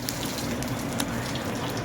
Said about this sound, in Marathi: पाणी आपण म्हशीला धुवून काढतो